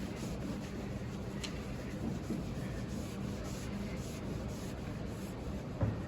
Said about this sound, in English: You just rub back and forth and just clean the paint.